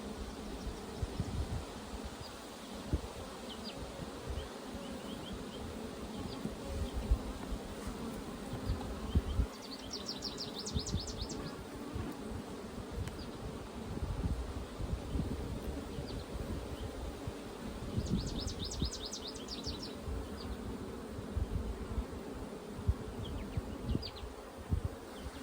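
Honey bees hum steadily from an open hive in a bee yard during a colony inspection, a continuous close buzz with brief brighter chirps of individual bees passing near, over rustling outdoor background.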